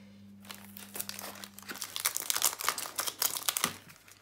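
Creative foil sheet crinkling and rustling as it is handled up close, with irregular crackly bursts that grow busier and louder toward the end.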